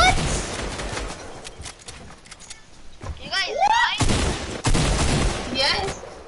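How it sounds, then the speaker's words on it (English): Bursts of rapid gunfire aimed at the player in a Fortnite solo squads match, sharp cracking shots in clusters of varying loudness, mixed with a voice talking over the action. "they're trying to shoot me!"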